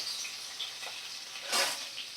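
Soft, steady frying hiss of fish in oil, with a brief louder crackling burst midway; no talking.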